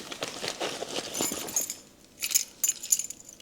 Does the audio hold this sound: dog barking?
no